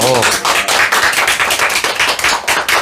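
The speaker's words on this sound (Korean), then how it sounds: "박수 한번 치시죠" Audience clapping at a talk, loud, close and rhythmic claps sounding as a steady run of sharp hits, with a short voice heard at the very start.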